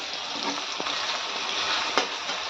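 Chopped onion and tomato sizzle in a pan for egg bhurji, a steady close frying hiss with a couple of faint stirring clicks.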